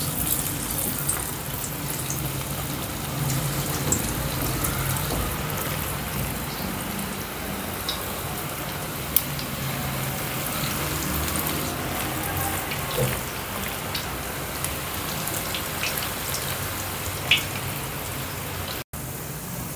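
Onion pakoras (crispy lachhedar onion fritters) deep-frying in hot oil, a steady, dense sizzle and crackle that runs unbroken throughout at close range, with no talking.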